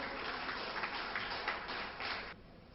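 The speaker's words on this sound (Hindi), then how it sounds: "साथियों, जोरदार तालियों से स्वागत करें मुख्य अतिथि जी का" An audience at an electricity employees' federation gathering in New Delhi claps to welcome the chief guest, a short burst of fairly faint, steady applause that cuts off abruptly after about two seconds.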